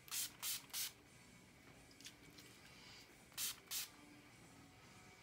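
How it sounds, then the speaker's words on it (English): A travel-size bottle of All Nighter makeup setting spray is pumped five times, three quick hisses at the start and two more later, close and soft against a quiet room. "this is just a travel size of the All Nighter Setting Spray"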